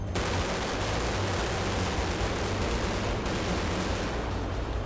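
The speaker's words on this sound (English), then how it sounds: "And we give him the 16-gun salute." Rapid volleys of gunfire for a 16-gun salute in a staged film scene for The Mechanic, dense and continuous at high level throughout, with a low rumbling bed underneath and no voices.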